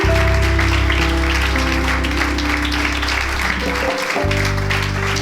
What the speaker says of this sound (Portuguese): Damos um aplauso para Jesus.